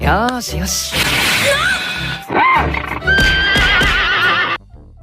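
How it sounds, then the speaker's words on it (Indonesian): A horse in an anime neighs loudly several times, with whinnies rising and falling in pitch, clip-clopping hooves and a crash mixed in, close and prominent. "sekarang giliran si kuda Ori yang balas dendam memprovokasi Gruwald yang lagi ngintip gak jauh dari sana."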